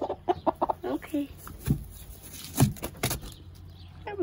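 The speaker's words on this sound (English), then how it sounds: "Now I think we got all the chickens out." Chickens cluck in short bursts close by on a farm during chores, with a few louder squawks and people moving and talking nearby.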